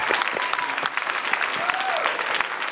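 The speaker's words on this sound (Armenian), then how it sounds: "Սոնային ծափարենք" An audience gives steady applause for Sona, a contestant on a game show. The clapping is dense and continuous throughout, fairly close, with no speech over it.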